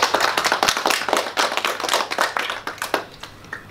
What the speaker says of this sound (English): Shall we give him a clap?